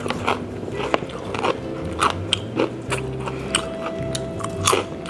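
Crunchy fried siomai wrappers bitten and chewed: repeated sharp, close crunches and crackling bites come in an uneven rhythm, loud and dry, with no talk.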